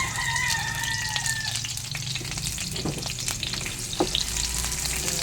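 Sliced onions hit hot cooking oil for pork steak, giving a loud, steady sizzle with scraping stir sounds and a sharp clatter near the end, with no talking.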